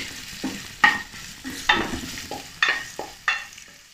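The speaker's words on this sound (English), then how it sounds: "chopped garlic and slices of ginger. Saute it until it becomes aromatic." Chopped garlic and ginger slices are sautéed in a pan, a spatula scraping and tossing in about half a dozen rhythmic strokes over a soft, steady sizzle, close and fairly loud, with no speech.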